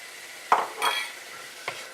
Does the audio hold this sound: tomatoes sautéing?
yes